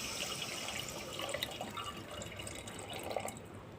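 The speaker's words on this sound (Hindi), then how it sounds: "अब मैं ये सब पूरा पानी इसके अंदर डाल दूँगी।" Measured water, about three glasses, poured into a cooking pot of rice and potato tahari, a steady splashing trickle with small drips, moderately close and alone.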